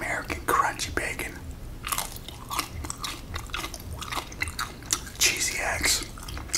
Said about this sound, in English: Got me some classic American crunchy bacon